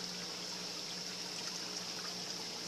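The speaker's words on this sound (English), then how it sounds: "it draws the water from this tank" A Mag 5 pump draws water from a fish quarantine tank, producing a steady, soft trickling flow that runs evenly without breaks, quiet and alone.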